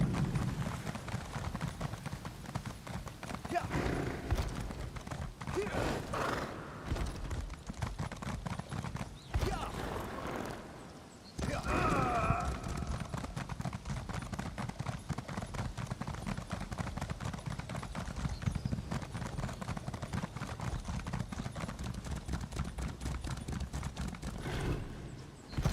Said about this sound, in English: We ride south! On my spectral horse.